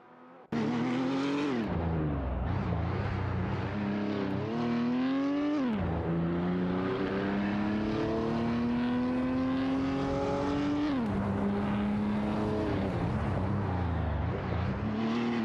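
Race cars including a Lancia Delta HF Integrale in a racing video game, a loud, constant engine drone with rising and falling revs as gears shift, close and continuous after a quiet opening second.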